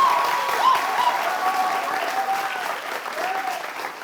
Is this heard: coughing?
no